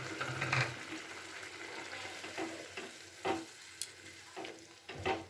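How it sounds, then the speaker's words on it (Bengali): Pointed gourd and spices cooking in a pan, with a splash of water added and stirred in: steady sizzle and frying crackle with a few soft spoon scrapes and stirring knocks, no talk. "মশলার বাটিটা ধুয়ে সামান্য পরিমাণের একটু জল দিয়ে দিলাম।"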